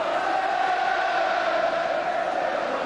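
Arsenal supporters fill a football stadium during a 2002 friendly against Celtic, producing a sustained distant roar of crowd noise with a steady, chant-like hum and no distinct individual voices.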